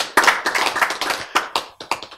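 Audience at a lecture on genes applauding, a short burst of crisp, close hand claps in an uneven rhythm that thins out toward the end.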